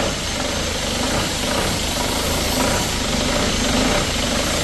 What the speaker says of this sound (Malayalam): ബൊലേറോയുടെ സൗണ്ട് എന്ന് പറഞ്ഞാൽ DI എഞ്ചിൻ്റെ സൗണ്ടാണ്.